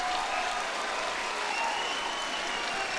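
A small crowd claps steadily and continuously at a public philosophy debate, the dense applause holding at an even level throughout with no voices rising above it.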